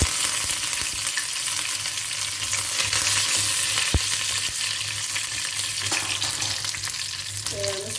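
Curry leaves sizzle and crackle in hot tempering oil for a wedding-style sambar, a loud, steady frying hiss that runs throughout with a few sharp pops and a brief metallic clink near the end.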